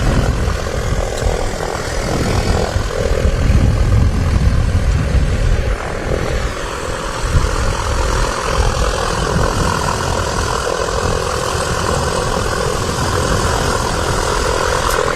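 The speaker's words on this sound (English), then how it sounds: "we've got one aircraft on the approach" A propeller aircraft on approach to Manchester City Airport drones loudly and steadily, a rough engine hum that stays close and continuous throughout.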